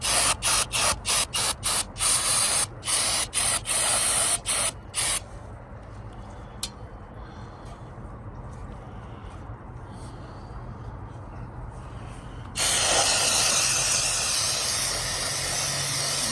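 Rapid bursts of aerosol cleaner spraying in short, loud hisses onto a 2025 vehicle's front differential pan, followed by a long continuous spray after a quieter pause.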